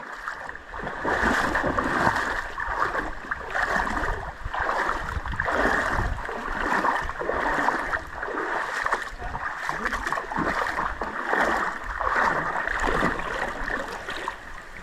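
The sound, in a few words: wading through water in Doblarec stream canyon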